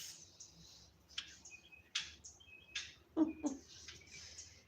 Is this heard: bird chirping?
yes